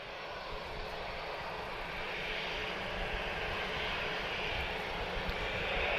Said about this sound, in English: So this is Tango Papa 1567 off to Boa Vista. A320 Neo.